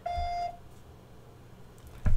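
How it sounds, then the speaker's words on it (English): A single steady electronic beep tone, clear and fairly loud, followed by quiet line hiss and then a low thump at the end. "Please leave the message after the beep."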